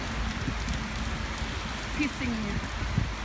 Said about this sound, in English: It's like raining so bad.